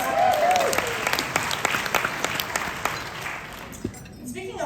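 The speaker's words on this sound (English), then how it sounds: "So I think you all deserve a round of applause for this." Convention audience at a 2021 California Republican women's biennial gathering claps together, a sustained crowd applause with scattered sharper individual claps that gradually thins out toward the end, a brief voice or noise appearing at the close.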